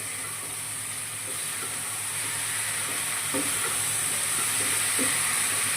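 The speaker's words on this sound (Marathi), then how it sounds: "हे सगळ्या भाज्या मी आता याच्यामध्ये टाकून सगळे मसाले एकत्र करून घेणार आहे" Steady sizzling of vegetables and spices in a pan with scattered scraping and clinking as they are stirred, continuous and close by, no voices.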